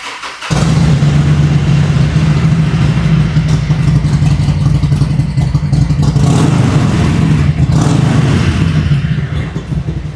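A custom Harley-Davidson motorcycle engine revs hard and keeps roaring at a loud, steady pitch for several seconds, close by and with no voices over it.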